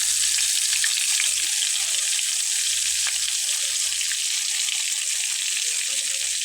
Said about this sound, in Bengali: তো দেখুন, ভাজা হচ্ছে।